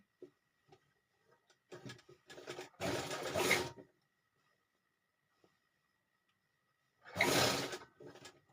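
A sewing machine stitches a four-cornered pillow cover with frills in two short whirring bursts, separated by quiet pauses with faint handling clicks.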